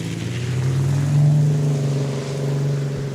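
A 2020 Ram and a 1992 Dodge D150 drag racing at Saskatchewan International Raceway give a loud, steady engine drone that swells briefly and then holds, close and alone.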